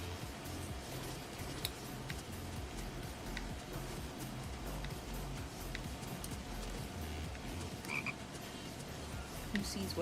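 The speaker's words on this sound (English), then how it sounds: "Alright, I heard a frog." Frog croaking outdoors, a repeated low pulsing croak that runs steadily through the clip, with a few faint clicks and ticks over it.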